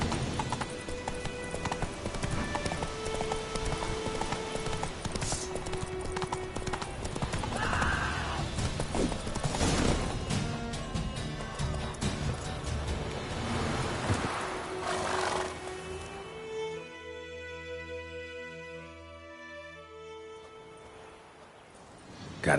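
Hooves clip-clop rapidly in a steady galloping rhythm with a horse neighing, from a PS4 video game, busy game sound filling the scene before fading toward the end.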